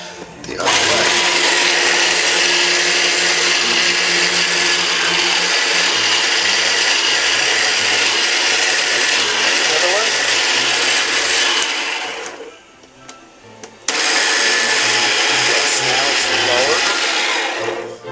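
An electric pasta machine grinds and churns whole wheat dough with a loud, steady motor whir, cutting out briefly near the end before starting up again, close and dominant.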